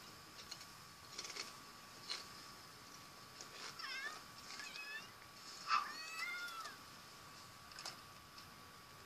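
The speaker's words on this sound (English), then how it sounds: "There's a cat outside." Several cat meows in The Sims 3 video game, some drawn out, spaced across the clip over a faint ticking background; quiet and fairly close.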